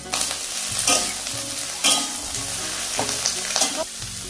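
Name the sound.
okra and potatoes frying in a pan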